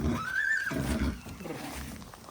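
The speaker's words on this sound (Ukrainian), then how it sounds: "Ось такий лошачок." A Brabançon (Belgian draft) horse foal whinnies once, a rising then falling neigh lasting under a second, fairly close and clear, followed by faint farmyard background noise.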